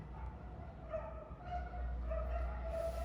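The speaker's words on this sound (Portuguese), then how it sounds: "Ah, cachorrinho." A small dog barks and yips in the background of a quiet indoor room, the sounds thin, distant and fairly faint, repeating irregularly over a low steady hum.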